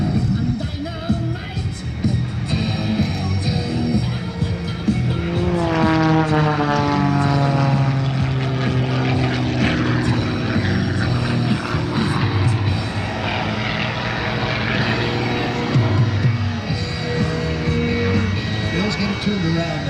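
Propeller aircraft engines roar loudly at an airshow race start at the Blue Angels Homecoming, a steady droning whine with rising harmonic pitch sweeps as the planes power up, continuous throughout with crowd noise beneath.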